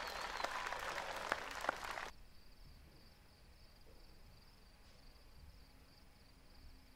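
Crowd applauding at a disc golf tournament, steady clapping for about two seconds that stops abruptly, leaving quiet outdoor ambience.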